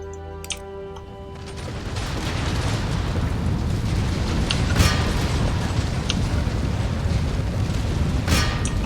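Cannon fire and explosions from a battle in the strategy game Empire: Total War swell into a continuous heavy booming rumble, with scattered sharper blasts cracking through after a quieter start.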